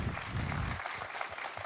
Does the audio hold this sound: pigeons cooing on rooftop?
no